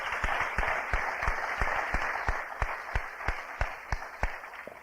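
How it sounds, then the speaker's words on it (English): An audience applauds the Sigma Gamma Rho hostesses at an evening event, a medium-sized crowd clapping steadily with a few sharp nearby claps standing out over a dense, sustained wash. "I think they deserve a round of applause."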